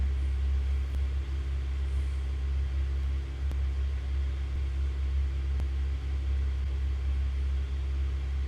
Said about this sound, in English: I'm going to pull the throttle back just a hair.